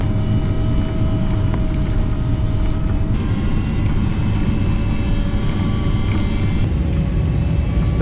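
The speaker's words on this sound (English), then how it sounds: "it is a bit of crosswind landing today in low visibility conditions" Airliner on a crosswind approach into Hong Kong in low visibility, heard from the cabin as a loud, steady engine and airflow roar with a constant droning hum, unbroken throughout.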